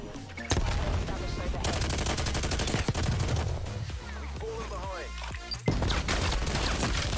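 Sniper gunfire in a Black Ops Cold War multiplayer match against a five-player party: several sharp, loud shots crack over constant game noise while a player talks.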